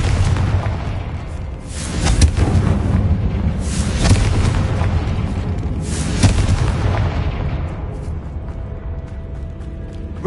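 Repeated Confringo fire spell blasts in the game Hogwarts Legacy: several loud, heavy booms land roughly every two seconds over a constant dense rumble, sounding close and forceful before easing off toward the end.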